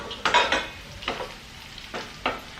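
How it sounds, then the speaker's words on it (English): Potatoes in a curry pan sizzle while a spoon scrapes and stirs them in several short bursts, close and fairly soft, with quieter frying between strokes. "I've been frying this like 10 minutes."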